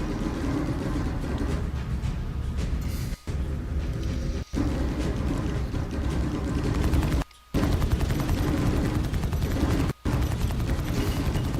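Weapon fire pounds a ship's shields in the space game Star Citizen, a loud, continuous barrage of rapid impacts and rumbling blasts with a few brief dropouts between bursts.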